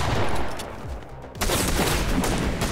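Loud, continuous gunfire in Fortnite during a desert zone wars match, heavy rapid shots filling the clip with a brief dip before another dense volley, with no one speaking.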